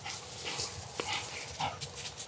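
Retriever dog working a Y drill training session outdoors, giving a few short, moderately close vocal sounds such as whimpers or yips over faint background noise, with no talk.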